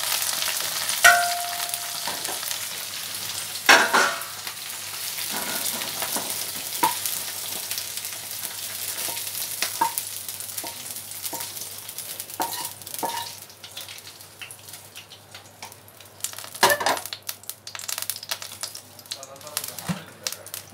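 Okra (bhindi) frying on a high gas flame gives a steady bright sizzle, with repeated clicks and scrapes of stirring and a couple of sharper clatters, close by, with occasional talk.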